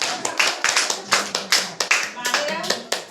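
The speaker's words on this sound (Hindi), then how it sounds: "ताली मारो मुझे।" Children at the Government Urdu LPS school in Bilal Colony, Bidar, Karnataka clap together in a quick, loud, fairly regular rhythm of sharp hand slaps, with some voices mixed in.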